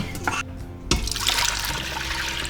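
Liquid poured into an Instant Pot while making homemade food, a close, steady trickling stream with a brief splashy burst near the start, continuous throughout.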